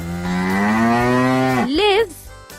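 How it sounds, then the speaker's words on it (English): A single long, loud cow moo, steady and drawn out, rising slightly before breaking into a wavering upturn at the end. "Cow."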